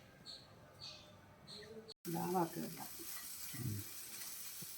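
Prawns fry and sizzle in a pan for a Kerala-style prawn roast, with stirring scrapes. The hiss is steady, and after a brief cut it comes back louder and closer, with a voice in the background.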